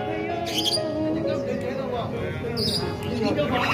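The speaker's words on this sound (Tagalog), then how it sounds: "Ayan mga alagang ibon." Pet birds on display in an outdoor park, chirping continuously at close range amid a busy mix of voices and ambient crowd noise.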